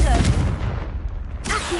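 A Confringo fire-blast spell in Hogwarts Legacy bursts with a loud, booming explosion, then rumbles off and flares again near the end, with a short shouted incantation over it.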